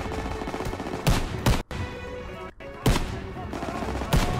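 Gunfire from the World War II shooter Call of Duty WW2, with several sharp, loud rifle cracks spaced about a second apart over a dense bed of battle noise, heard close.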